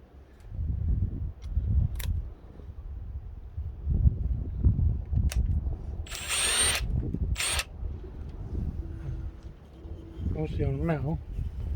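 A Milwaukee Shockwave impact-duty drill bit bores into metal, with rough low grinding bursts, brief high-pitched squeals and scrapes, and a whining pitch sweep near the end, all close up.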